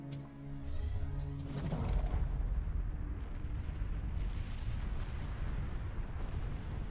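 A volcanic eruption on Santorini, heard as a dense, continuous deep roar and rumble of explosive force, loud and sustained throughout with no break.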